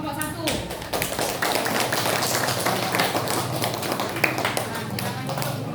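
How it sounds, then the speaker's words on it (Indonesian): A classroom of students claps for group 1, a dense, fast patter of many hands that runs steadily for several seconds, close and lively, with voices mixed in underneath. "beri tepuk tangan untuk kelompok 1"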